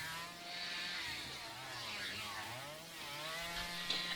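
A chainsaw roars in the Texas Chainsaw Massacre video game, a steady buzzing engine drone that dips and revs back up, fairly quiet and alone.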